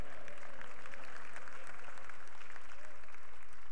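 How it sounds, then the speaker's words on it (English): Audience applause in a church service, a broad steady wash of hand claps continuing for several seconds, moderately loud with no speech over it. "That deserved more than 3 claps."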